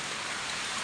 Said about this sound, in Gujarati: ફૂલ વરસાદ ચાલુ છે ઘઉંમાં પડે